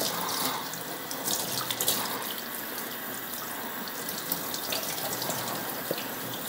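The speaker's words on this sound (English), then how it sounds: "Rinse it off." Water runs steadily from a tap onto a hat being rinsed, a continuous close splashing hiss with small spatters and no voices.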